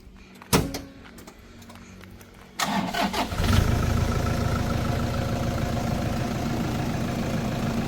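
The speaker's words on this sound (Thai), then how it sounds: "รถสตาร์ติดง่ายนะคะ เครื่องนิ่มๆเลยค่ะ" A 2011 Toyota Vigo Champ pickup with a stock engine cranks and catches after a door clunk, then settles into a steady, smooth, fairly loud idle that runs on unbroken.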